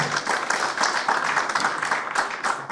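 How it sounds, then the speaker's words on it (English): Steady, dense audience applause fills a Nigerian Economic Society event unveiling the 2025 economic outlook, a continuous crowd of clapping hands sustained without pause. "Please make that applause louder"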